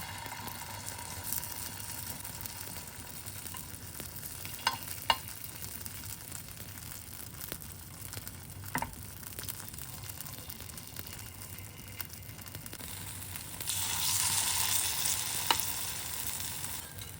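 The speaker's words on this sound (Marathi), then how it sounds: "आपण आता हे बॅटर असं आप्प्यामध्ये सोडून घेऊया" Appe batter dropped into an oiled appe pan, a soft steady sizzle with scattered light taps that swells louder toward the end.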